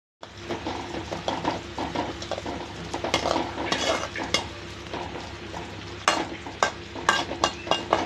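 Garlic cloves and shallots fry and sizzle loudly in a pan, close by, while a utensil stirs and scrapes against the metal in uneven bursts. No one speaks.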